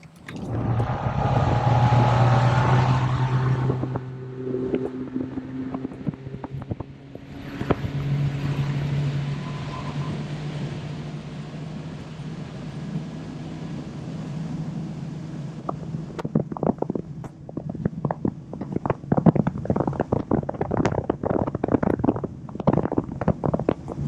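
A boat driven by a Mercury Pro XS V8 four-stroke outboard runs close by with a steady low engine drone and wind buffeting, then the sound turns choppier with splashing and hull slaps as it moves through the water.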